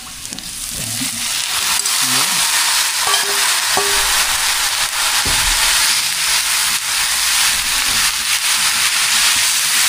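Innards and meat sautéed in a hot pan after browning, a steady loud sizzle and hiss running throughout, with occasional stirring clinks and scrapes of a utensil against the pan.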